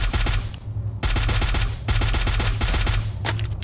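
Video-game gunfire rattles in loud, rapid automatic bursts, with several long strings of shots separated by short pauses.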